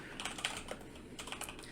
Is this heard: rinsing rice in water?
no